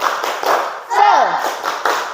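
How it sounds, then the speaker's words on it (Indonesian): A school class clapping together in a short rhythmic cheer pattern, several bursts of hand claps in quick succession in a classroom, mixed with children's voices chanting along. "coba kita tepuk semangat terlebih dahulu"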